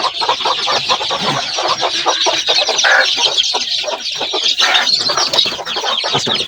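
Several native Bangladeshi chickens cluck and squawk continuously at close range, a busy overlapping chorus of sharp, repeated calls with no talking.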